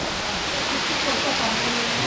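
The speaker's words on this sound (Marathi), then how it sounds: "मस्त पाणी भरत आहे वरून" Water pouring down from above along a monsoon jungle trail at Waghbil near Badlapur, a dense, continuous rushing roar close by that fills the whole moment without a break.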